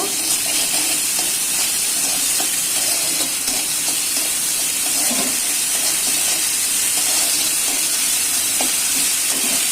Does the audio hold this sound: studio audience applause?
no